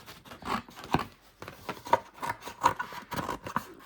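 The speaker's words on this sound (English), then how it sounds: "Let's cut these out." Craft scissors snip through paper tags at a close, quiet level, giving a run of short crisp cuts and rustles with uneven pauses between them.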